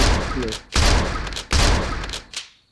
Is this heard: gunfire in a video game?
yes